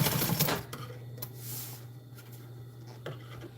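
A sewing machine stitches fabric crossways for custom truck storage, a short burst of mechanical clatter up front easing into a steady motor hum with a few scattered taps.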